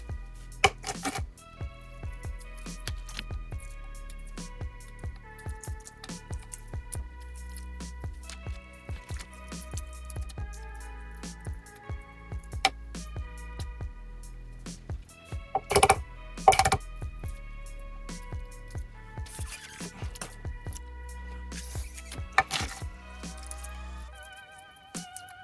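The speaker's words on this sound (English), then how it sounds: "So let's peel some eggs." Hard-boiled eggs being peeled by hand, with close, sparse crackling clicks and taps of shell breaking that come in small irregular clusters against near silence.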